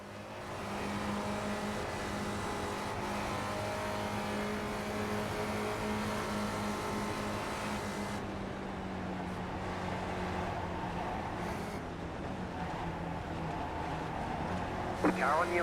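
Porsche Cup race car lapping the Nürburgring in a racing video game, a steady droning engine note with shifting pitch as the car runs and shifts, heard under talk.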